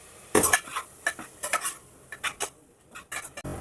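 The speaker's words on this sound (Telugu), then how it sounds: "ఇప్పుడు ఇక అడిగిన మటన్ వేసేసుకొని బాగా కలుపుకుందామండి." Mutton for haleem is mixed in a pot with salt, ginger-garlic paste and turmeric, producing irregular bursts of metal spoon scraping and clanking over a faint background sizzle.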